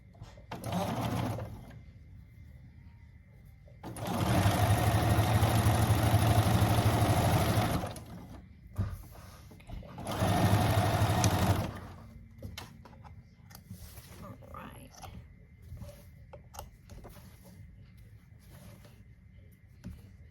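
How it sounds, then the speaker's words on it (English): A sewing machine whirs in a few separate runs, one brief and two longer bursts of several seconds, with quiet stretches and faint handling noises between. "Don't you just love the sound of a sewing machine?"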